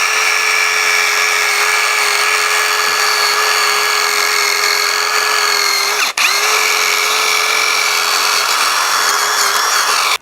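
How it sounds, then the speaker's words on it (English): A power drill fitted with a brass wire brush bit scours rust off a Toyota Hilux rear drum brake, holding a loud, steady high whine with one brief dip midway. "got a little brass bit for the drill here"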